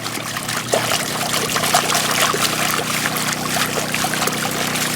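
Water trickles and swirls in a gold pan being worked in a creek or river, a close, continuous wet sloshing with small splashes and a low steady rush of flowing water beneath.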